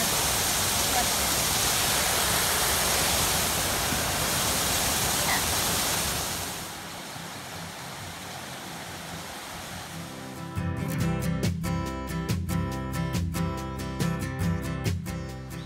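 River water rushes beside a stretch of the Appalachian Trail in a loud, steady hiss for about six seconds. It then drops to a quieter wash, and clicking and tapping noises follow near the end.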